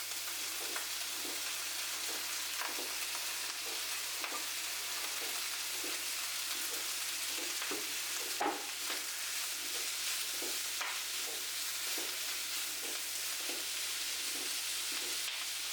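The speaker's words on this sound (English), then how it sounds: "Now melt some lard in a hot skillet and add the diced ham." Diced ham sautéing in melted lard in a hot skillet gives a steady, even sizzle throughout, with light stirring clicks and soft pops scattered over it and no voices.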